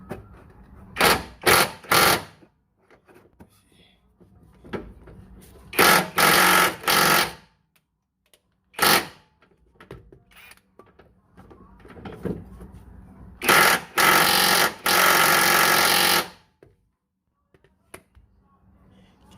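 Pneumatic impact wrench hammering on a 19 mm bolt while a lower X brace is fitted under a Golf Mk1, several loud rattling bursts of one to three seconds separated by quieter workshop handling sounds and a voice.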